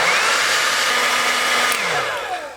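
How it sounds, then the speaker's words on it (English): A hair dryer blows loudly and steadily up close to heat a plastic action figure, a constant whooshing drone with a slight shift in pitch as it runs. "Just going to blow dry this guy, make him nice and warm."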